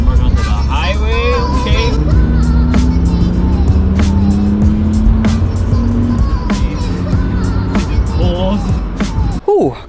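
A BMW E36 M3 merging onto a highway, its engine note rising and falling through gear changes under steady road and wind noise, with people talking inside the car.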